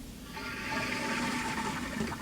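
A toilet flushes close by, a rushing gush of water that swells after a brief moment and pours steadily to the end.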